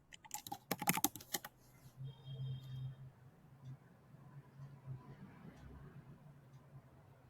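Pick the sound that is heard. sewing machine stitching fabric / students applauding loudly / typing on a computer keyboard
typing on a computer keyboard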